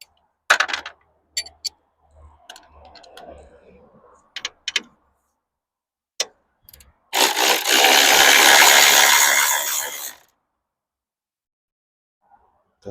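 A wrench cracks loose 16 mm bolts, which turn out to be nuts on studs, during removal of a 2.0T FSI engine on a driveway: scattered sharp metallic clicks and knocks, then a loud burst of ratcheting noise lasting about three seconds.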